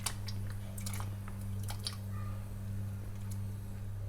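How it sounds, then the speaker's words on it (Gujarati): Potatoes dropped into a pot of hot water on the stove while cooking an oil-free brinjal and potato curry: a few soft, irregular plops and drips over a steady low hum, with no talking. "હવે એની અંદર બટેકા એડ કરીશું,"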